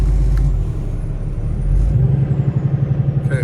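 A 2017 Kenworth T680 truck with a Cummins ISX engine and automatic transmission runs close by, a steady deep diesel rumble that settles into a rhythmic pulsing throb in the second half, with no talking.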